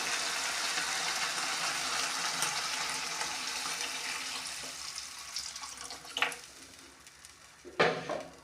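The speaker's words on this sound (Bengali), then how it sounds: "এবার এর মধ্যে আমি একটু জল দিয়ে দেবো" Loud hiss and sizzle as water is poured onto fried spices in a hot pan while making Bengali katla fish-head muri ghonto, tapering off, followed by a couple of closer clatters near the end.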